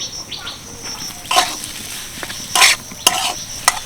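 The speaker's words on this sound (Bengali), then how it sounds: "আলুটা দেওয়ার সঙ্গে সঙ্গে কিন্তু একটু নেড়ে চেড়ে নিয়েছি যাতে কড়াইয়ের মধ্যে জড়িয়ে না যায়" Short scraping strokes of a spoon stirring mashed potato in a kadai, four or five bursts over a soft background sizzle.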